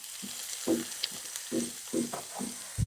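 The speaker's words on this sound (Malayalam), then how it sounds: "ഇനി ഈ വറവ് അങ്ങോട്ട് കറിയിലേക്ക് ചേർക്കുന്നേ ഉള്ളൂ." A hot tempering of shallots, dried chilli and curry leaves is poured into a ripe mango curry, giving a short, close sizzling hiss with a few soft stirring bumps.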